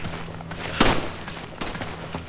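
Gunfire in the co-op video game Resident Evil 5: a sharp loud burst of shots near the start, then a softer second volley, heard alone over faint background game ambience.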